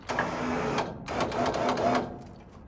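An electric winch mounted on a utility trailer runs close by in two short bursts of steady whirring motor and ratcheting gear noise, with a brief pause between them.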